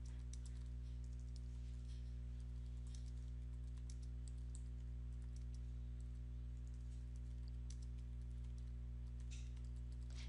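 Computer keyboard typing in quiet bursts of clicks, faint over a steady low electrical hum, with no voice.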